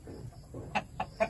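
A hen clucks three short times near the end, close and moderate, after a stretch of quiet low rustling in a native chicken coop.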